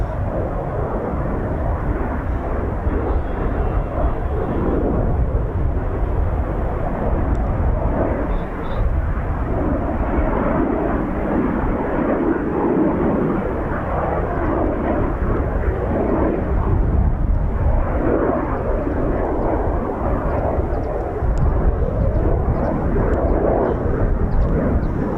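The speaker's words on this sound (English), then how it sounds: "I hope you enjoyed that performance takeoff. I deliberately thought I'm not going to zoom in, I'm going to leave it so you can really see that climb." A Eurofighter Typhoon FGR4 fighter jet climbing after a performance takeoff at RAF Coningsby, a loud continuous roaring engine rumble that holds steady throughout, with a person talking faintly beneath it.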